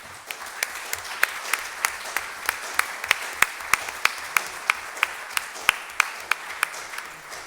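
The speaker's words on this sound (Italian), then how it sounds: "Beh, con questa riflessione, Pietro, noi ti ringraziamo tantissimo con un grande applauso." An audience at a philosophy talk applauds, a steady wash of many hands with sharp individual claps standing out, close and continuous with no voices over it.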